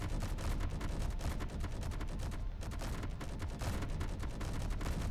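Rapid gunfire from a space combat video game, a continuous stream of crackling automatic shots with a brief gap midway, steady and dense throughout, with no voices.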